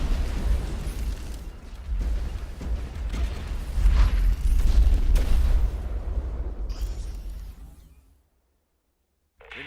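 Bomber weapons in the video game X Morph Defense set off a run of heavy, rumbling explosions with scattered bursts for about eight seconds, then the sound cuts to near silence before a faint return.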